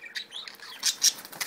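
A budgie gives a few quick, thin, high chirps close by, faint and alone with no talking, separated by short gaps.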